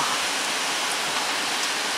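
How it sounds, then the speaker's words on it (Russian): Rain and hail falling outside a loggia, a steady, even wash of hiss and patter with no voices. "А, град! Блин, у нас град та же. Дождик."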